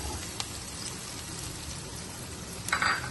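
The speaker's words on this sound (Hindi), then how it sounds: "अब हमने ये जो चिकन रखी थी श्रेड करके, इसको हल्का सा हमने भून लेना है" Shredded chicken lightly frying in a pan with softened onions, a steady broadband sizzle and crackle running throughout, close and even, with a brief brighter burst of spattering near the end.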